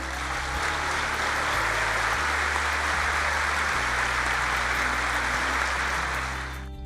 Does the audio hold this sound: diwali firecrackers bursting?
no